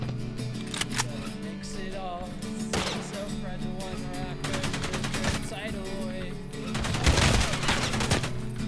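Gunfire from the video game Escape From Tarkov cracks in short bursts and single shots, close and sharp, scattered across the stretch with a dense flurry near the end, while a player talks between volleys.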